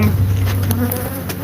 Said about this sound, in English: we have those bees coming and going from